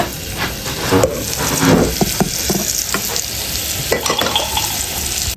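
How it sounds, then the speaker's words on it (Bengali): Onion, green chili and cumin frying in hot oil: a loud, close, continuous sizzle with repeated scraping stirs of a spatula against the pan. "সেটা করার জন্য পেঁয়াজ, কাঁচামরিচ, জিরা এগুলো সব ভেজে নিচ্ছি"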